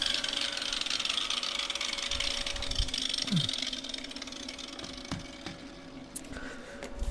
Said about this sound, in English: Wait for the grinder to slow down